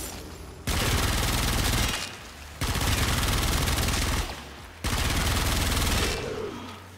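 Secura Dual Cestra pistols in Warframe fire in three long, loud sustained bursts of rapid automatic shots at enemies, separated by brief pauses.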